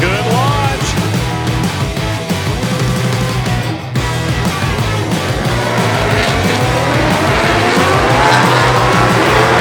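Superbikes launch off the start at WeatherTech Raceway Laguna Seca in a superbike race. A loud, dense roar of many engines climbs steadily in pitch as the pack accelerates away.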